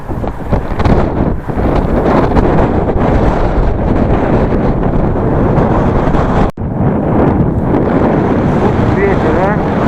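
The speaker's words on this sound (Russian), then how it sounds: "Ветер, а?" Strong wind buffets the microphone outdoors on a mountain descent in Qinghai, China, a loud, steady roar with broad rumbling gusts and one brief dropout.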